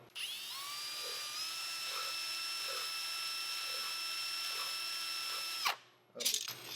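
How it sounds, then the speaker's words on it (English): A power drill spinning a screw against a held file whines steadily for several seconds, its pitch rising slightly as it spins up, then cuts off abruptly, followed by a brief scraping rattle. "Take your drill,"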